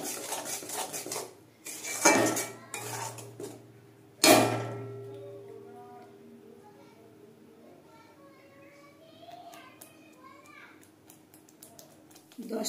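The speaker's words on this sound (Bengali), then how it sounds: "এবার ভালো করে মশলাটাকে কষিয়ে নেব।" Spice masala is stirred in a pan: a few loud metal clanks and scrapes of a spoon against the pan come early, then quieter cooking sounds continue under a woman's speech.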